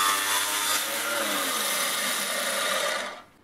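Blade cutting through a plastic bottle along a line, a continuous close rasping, buzzing rush that holds steady for about three seconds and then stops abruptly.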